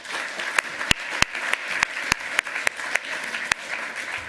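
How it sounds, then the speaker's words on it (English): Audience at a hacker conference lightning-talk session breaks into steady applause, a dense wash of clapping with a few sharper individual claps standing out, fairly close and sustained throughout. "Second round of applause for that."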